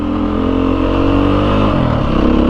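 A 2022 Beta 430 RR-S dirt bike engine revs loud and close, holding a strong steady roar with a slight pitch shift partway through, with no talk.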